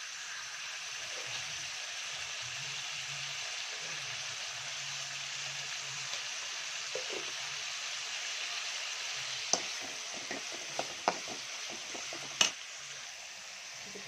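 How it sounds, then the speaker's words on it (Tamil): Chopped tomatoes with a little salt sauté in a pan for a sardine (mathi) fish gravy, giving a soft, steady sizzle with a few sharp ticks and utensil taps near the end. "வதக்கிட்டு இதில் ஒரு 4 தக்காளி போட்டு பொடியை கட் பண்ணி போட்டு வதக்கணும்."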